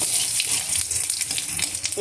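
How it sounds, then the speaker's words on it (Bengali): Bitter gourd sizzles in hot oil in a wok with panch phoron and bay leaf, a continuous dense crackle and hiss, close and steady for a couple of seconds. "এগুলো ভাজা হচ্ছে"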